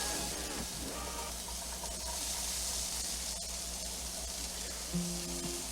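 Red onions sautéing in a hot pan for smothered pork chops, giving a steady, close, broadband hiss and sizzle that runs the whole time with faint clinks near the end.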